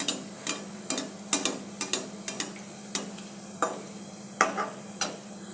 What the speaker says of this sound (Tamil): முதல்ல நம்ம இந்த ஜாமுனை பூரா பொரித்து எடுத்துக்கலாம்